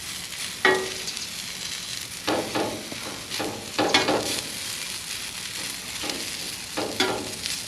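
Peppers for a cheesesteak fry in a pan, giving a soft steady sizzle broken by several brief louder bursts of stirring, fairly quiet and close.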